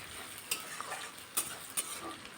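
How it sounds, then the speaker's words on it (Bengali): Onions and two green chillies fry in a little oil for a Bengali rui fish curry, giving a faint, steady sizzle with a few sharp crackles and pops scattered through it. "এরপরে পেঁয়াজটা খুব ভালো করে লাল লাল করে ফ্রাই করে নেব।"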